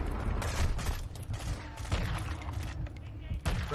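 Rapid gunfire and explosive blasts from a Call of Duty match, with RPG rockets fired at a main battle tank, packed densely and loudly with almost no gaps, while a voice talks over the combat.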